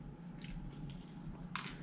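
Someone chews Louisiana-seasoned crispy fried chicken up close, with soft, wet crunching bites that end in one sharp, loud crunch, and no talking.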